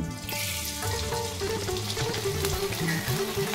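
Edible gum (gond) frying in hot ghee over a low flame, a steady close crackling sizzle running throughout with a few clinks, no talking.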